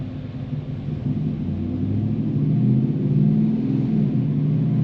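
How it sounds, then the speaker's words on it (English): An L83 engine car on a dyno pull in third gear with stock drive shaft and gearing, a heavy low rumble building steadily in loudness over a few seconds. "I'm doing our dyno pulls in third gear, stock drive shaft, stock gearing"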